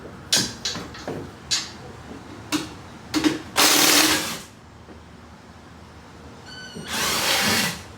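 Power tool, likely an impact gun, removing a bolt during a clutch swap on a K24-swapped Honda DC2 with a Z3 transmission, sounding as several short bursts followed by longer whirring runs.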